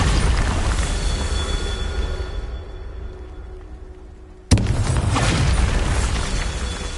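A Bombarda spell explodes in the video game Hogwarts Legacy: a sudden, loud, deep blast bursts in partway through over a steady rumbling game backdrop, then its roar carries on and slowly settles.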